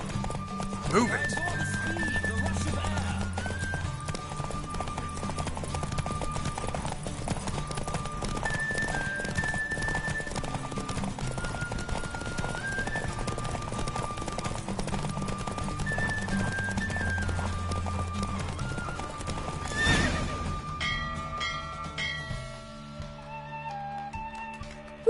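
A galloping horse in The Witcher 3: Wild Hunt pounds along for a long stretch with neighs, under continuous music and occasional voices, before the hoofbeats drop away and a quieter scene takes over.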